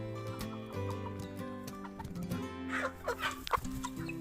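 Larmod breeding-stock chickens clucking close by, with short, repeated calls over a steady hum of background tones that grow busier toward the end.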